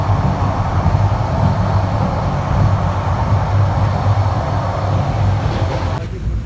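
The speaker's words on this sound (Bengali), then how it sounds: "আমাদের ট্রেনের গতি একবারে স্লো হয়ে গেছে" The Cox's Bazar Express passenger train runs through hilly country at slowing speed, heard from inside as a steady, loud low rumble and rattle of the carriage, with no pause and no talking.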